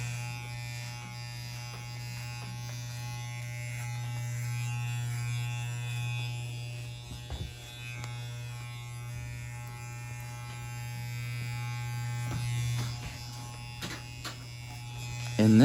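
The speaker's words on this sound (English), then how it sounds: "That's why the clipper is making all the noise." Hair clippers with a number 2 guard closed buzz loudly and continuously while going over a client's head during a barbershop fade, a close steady electric drone with slight pitch wobbles as the blades meet hair.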